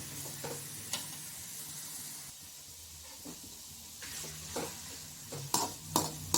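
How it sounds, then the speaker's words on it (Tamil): Chopped onions sauté in hot oil for a soy gravy, with a moderate crackling sizzle broken by a few spoon-stirring clacks, heard up close with no speech. "எண்ணெய் சூடானோன்னு வெட்டி வச்சிருக்க வெங்காயத்தை சேர்த்துட்டு கோல்டன் ப்ரௌன் ஆகிற வரையும் நல்லா வதக்கிக்கலாம்"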